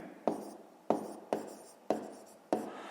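Pen or pencil writing on paper while working a fifth-grade math exercise, five short strokes in a steady rhythm, close and quiet with no talk.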